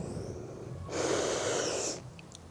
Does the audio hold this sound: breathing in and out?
yes